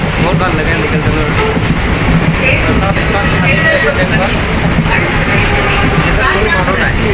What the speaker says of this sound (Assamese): বহুত ভাল লাগে লোকেল ট্ৰেইনত।